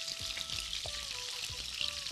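Korameenu fish pieces shallow-fry in hot oil with a dense, even crackling sizzle, close up and steady, with a few faint clinks and a low background tone and no one speaking.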